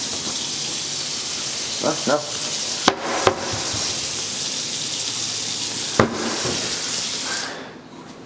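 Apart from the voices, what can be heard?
hot water running from a tap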